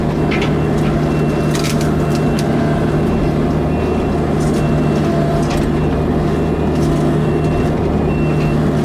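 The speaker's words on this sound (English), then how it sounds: "We got the next truck backing in here. This is actually a dump truck." A dump truck backs in at a garage demolition site with its backup alarm beeping in a steady repeating rhythm. The beeps sit over a loud, continuous diesel engine rumble close by.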